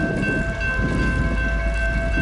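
Grand Canyon Railway train arriving at the station in a snowstorm, a steady close rumble of rolling cars with sustained horn-like tones held throughout.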